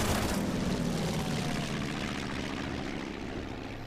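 Enemy bomber aircraft in the Order of Battle war game, a steady droning propeller engine roar that holds loud and even throughout, with no voices over it.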